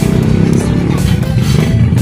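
A repaired motorcycle engine running up close, a loud, steady low rumble with a rapid pulsing beat that holds evenly across the whole stretch.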